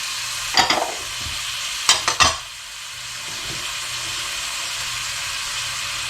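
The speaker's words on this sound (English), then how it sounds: "we're going to let that cook until everything becomes translucent" Celery and other vegetables sauté in a pot for a beef shank Burgundy stew, giving a steady close sizzle and hiss broken by a few scraping stirs near the start, with no talking.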